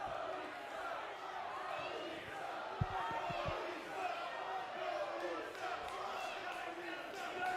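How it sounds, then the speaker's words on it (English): A large indoor pro wrestling crowd roars steadily throughout, cheering and shouting, with a few sharp thuds partway through. "You can hear the crowd firmly behind Lipto."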